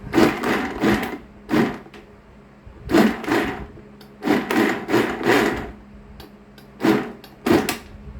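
A heavy duty blender crushes ice for an avocado shake in a series of short, loud grinding bursts separated by brief pauses, with no talking.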